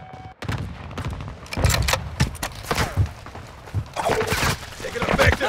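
Gunfire in a Call of Duty: Modern Warfare II ground war match, with sharp bursts and scattered single shots at varying distances, mixed with footsteps and radio-style voice callouts.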